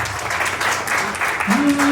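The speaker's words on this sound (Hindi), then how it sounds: "आप सब अपने भाइयों के लिए एक बार तालियां बजा दीजिए" Applause from an audience at a Hindi poetry recital, a steady wash of clapping with a brief tonal sound entering near the end.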